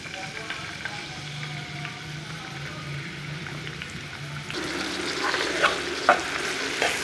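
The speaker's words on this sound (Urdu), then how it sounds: "گھی ہمارا گرم ہو چکا ہے، اب ہم اس میں شامل کر لیں گے پیاز۔" Onions dropped into hot ghee for a mutton brain masala fry, a soft steady frying hiss that grows brighter and louder partway through as stirring clatters in.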